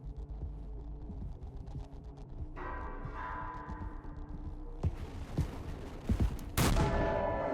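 A single loud gunshot in the video game Mouthwashing bursts out near the end, preceded by creaking, mechanical rumble and scattered metallic clanks.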